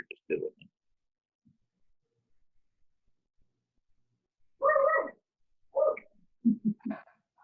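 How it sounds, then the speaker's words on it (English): A dog barks outdoors during an open-air gathering, a cluster of loud, close barks arriving in quick succession after a stretch of near silence, with a few fainter earlier yelps. "that barking is not a part of the meeting"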